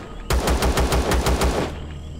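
Rapid automatic gunfire in the video game Empyrion: Galactic Survival, a single loud burst of about a dozen evenly spaced shots lasting under two seconds, then fading to quiet ambience.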